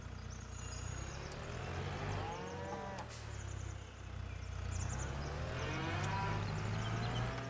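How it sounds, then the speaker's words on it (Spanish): Cattle low repeatedly in a farming simulator game, several overlapping drawn-out moos rising and falling in pitch, fairly loud and close, with faint engine hum beneath. "Bueno, pues vamos con nuestras primeras 5 vacas."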